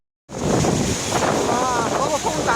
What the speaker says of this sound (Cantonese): 嗰個風大到咧，打橫一陣陣啊